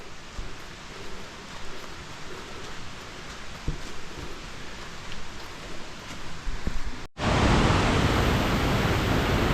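A large river rushes beside a hiking trail near Bishnudwar outside Kathmandu, a steady broad roar of water that suddenly becomes much louder and closer for the last couple of seconds, with no voices.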